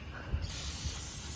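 An aerosol can sprays onto Honda Civic car parts, giving one steady close hiss that starts partway in and holds to the end.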